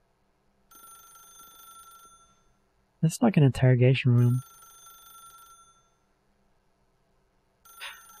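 Telephone ringing in the video game The Stanley Parable, an electronic bell with steady harmonic tones in repeated bursts, moderately loud, separated by a short stretch of someone talking.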